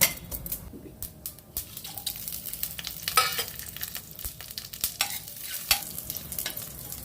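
Cumin seeds, dry red chillies and garlic cloves frying in oil, a close crackling sizzle broken by frequent metal spoon scrapes and clinks against the pan, irregular and busy throughout.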